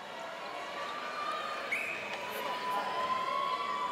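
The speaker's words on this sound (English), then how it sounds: "Pretty hard to hear the calls over the din of the crowd" Crowd din in a netball arena at the 2010 Commonwealth Games final, a steady wash of distant voices and murmur with faint whistles and squeaks, fairly quiet and even throughout.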